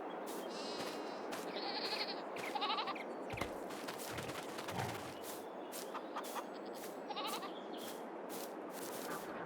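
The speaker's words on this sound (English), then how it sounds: "We're going to hold a total of 50 sheep or goats in this pen, and we have 16 at the start." A pen of sheep and goats in Farming Simulator 22 on the Agro Sul Rice farm map. Repeated bleats, some overlapping and some near, sound over a steady farmyard background, with occasional clucking poultry mixed in.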